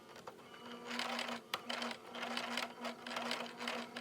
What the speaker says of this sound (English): I have a Singer sewing machine that has worked well for me.